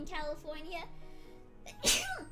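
A single sharp, loud sneeze bursts out near the end, following a few words of casual indoor talk.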